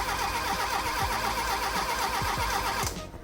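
A Fiat Tipo's starter cranks the engine with the fuel pump fuse removed, a steady mechanical whirring churn that runs continuously without catching and then cuts off abruptly near the end.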